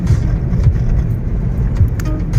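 A ZIL-130 truck drives out of town with a deep low engine rumble and road noise heard from inside the cab. The drone is steady and fairly loud, with faint rattles above it.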